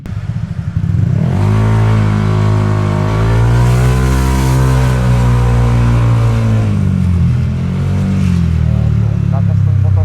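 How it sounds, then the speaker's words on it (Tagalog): A Honda ADV 160 scooter with an aftermarket pipe revs loudly up close, its engine note climbing and holding a strong, buzzy pitch before settling back toward idle. "Dito ay nahihiya nga ako i-rev masyado yung motor dahil nga sobrang lakas talaga."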